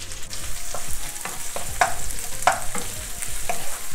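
Cumin, crushed onion and ginger fry in hot oil with a loud, continuous sizzle, broken by sharp scraping stirs and small crackles close by, with no talking.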